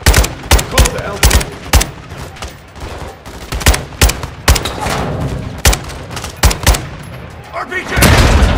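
Rapid gunfire in Call of Duty: Modern Warfare II, a wall assault with many sharp, loud shots in irregular bursts, close by, with booming rumble building near the end.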